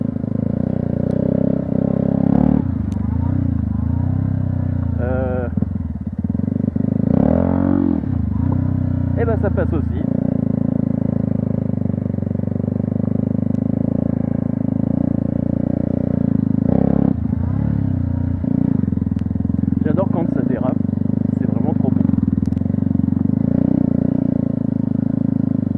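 A Yamaha YZF 125 R sport motorcycle revs hard and loud during wheelies on open ground, engine note rising and falling in repeated bursts with some clatter, while people talk nearby.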